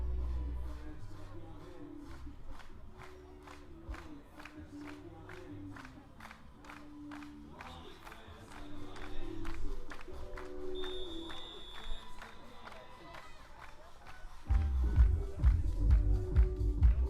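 A crowd at a beach volleyball match in The Hague chants and claps in steady rhythmic bursts, and the noise swells into louder cheering toward the end.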